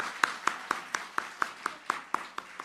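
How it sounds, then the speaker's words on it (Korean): A congregation at a New Year's Eve worship service claps in tight unison, a steady, evenly spaced run of about ten sharp claps at a brisk tempo. "새 주신 하나님께 영광의 박수를 올려드립니다"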